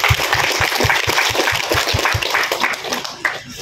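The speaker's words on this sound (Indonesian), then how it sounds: "Kita tepuk tangan untuk Kusa." An audience at a gathering addressed by the Malaka regent claps for Kusa, with fairly loud, regular rhythmic clapping that holds steady throughout.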